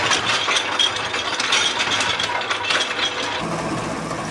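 A mechanized grinding machine called a Rola runs in an Indian slum workshop, giving a steady close rattling, ratcheting churn of gears throughout, with no voices.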